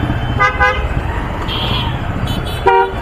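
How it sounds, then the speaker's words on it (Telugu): Busy city road traffic in Hyderabad: several short car-horn toots sound over a steady rumble of engines and street noise, with a couple of quick beeps close by. "ఇక్కడ ఫుల్ ట్రాఫిక్ ఉంది ఇక్కడ"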